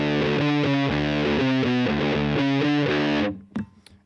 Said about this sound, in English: Just simple fuzz. Gets the job done.